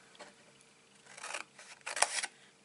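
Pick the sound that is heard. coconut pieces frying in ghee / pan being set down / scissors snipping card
scissors snipping card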